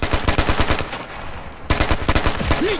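Rapid automatic gunfire in the shooter game Ghost Recon: Future Soldier, loud and close, in two sustained bursts broken by a brief pause.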